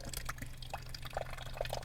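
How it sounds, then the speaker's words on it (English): Water runs from the push-button tap of a three-shelf camp cupboard inside a van and fills a cup. It makes a faint, steady trickle with small drips and splashes throughout, recorded close up in a quiet space. "I touch the top button here"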